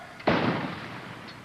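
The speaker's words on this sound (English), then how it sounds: "Cannons were set off to signify the beginning of the 11th hour" A single loud ceremonial cannon blast booms out in a park with a sharp attack and a long rumbling decay, alone in open air.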